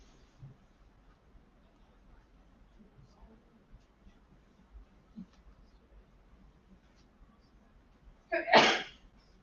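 A single sharp sneeze bursts out near the end of a quiet indoor stretch, loud and brief against faint background sounds.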